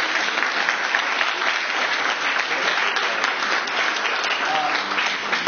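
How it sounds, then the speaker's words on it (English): Audience applause at a public information session, steady and dense clapping from a room of people, moderately loud and continuous throughout. "A round of applause."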